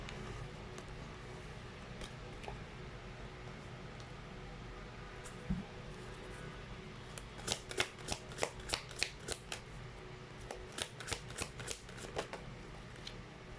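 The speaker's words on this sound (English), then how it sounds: "let's try to pull up more cards here" Tarot cards are shuffled and pulled, starting as faint handling over a quiet room and then turning into quick runs of crisp, close riffle snaps in two bursts.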